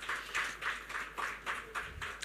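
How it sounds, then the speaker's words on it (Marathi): An audience claps in rhythm at a Medimix Ayurveda promotional event, with about eight evenly spaced bursts of fairly faint applause. "सो त्यासाठी एकदा जोरदार टाळ्या होऊन जाऊ देत."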